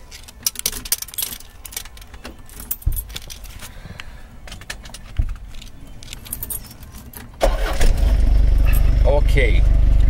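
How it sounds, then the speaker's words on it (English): A camper van engine, used as a mobile office, cranks and starts near the end, settling into a steady loud running drone after earlier clinks and rustles, with talk heard over it. "So let's turn on the engine and see how this thing works."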